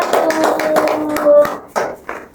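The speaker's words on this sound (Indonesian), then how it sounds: "Tepuk tangan untuk kelompok 1." A short burst of hand clapping from a small group of primary school pupils in a classroom, close and uneven, fading into a few scattered claps at the end.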